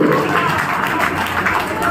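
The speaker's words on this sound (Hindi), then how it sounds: "एक बार जोरदार तालियां होनी चाहिए हमारे सारे वरिष्ठ गार्जियनों के लिए" Applause for senior guardians at a Marwari Agrawal Panchayat honour ceremony comes as steady, dense clapping from a crowd in a hall, loud and continuous throughout.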